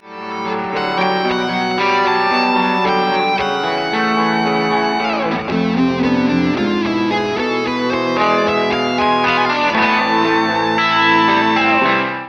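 Distorted electric guitar plays a fast run of chords and notes with effects and echo, loud and continuous, with no voices.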